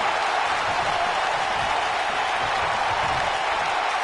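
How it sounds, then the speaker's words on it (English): A passionate wrestling arena crowd at a Survivor Series pay-per-view roars and cheers, a loud, dense, unbroken wall of voices and applause that holds steady throughout. "I don't remember the last time I heard a more passionate crowd than the one we have here tonight"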